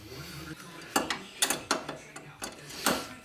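A ratchet wrench works the 19 mm upper bolts on a Toyota Prius wheel hub, giving several short bursts of sharp, close clicking in an uneven rhythm, separated by brief pauses.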